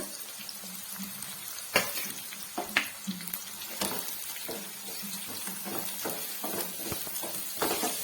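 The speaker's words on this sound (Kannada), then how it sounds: "ಈರುಳ್ಳಿ ಮತ್ತೆ ಹಸಿಮೆಣಸಿನಕಾಯಿನ ಹಾಕೊಂಡು ಫ್ರೈ ಮಾಡ್ಕೊಳ್ಳೋಣ" Chopped onion and green chillies fry in a pan, giving a soft continuous sizzle near the mic, punctuated by several sharp spatula scrapes and knocks against the metal, with no talking.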